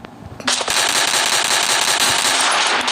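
Sustained rapid gunfire erupts loudly in a battle royale video game after a brief quieter moment, a dense continuous burst of shots filling the rest of the clip.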